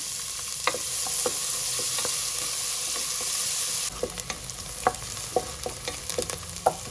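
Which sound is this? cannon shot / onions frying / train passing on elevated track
onions frying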